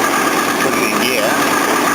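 A Jaguar car engine runs steadily after being put in gear, a loud continuous hum and vibration held close throughout, with a fix underway for drive plate and cold start faults.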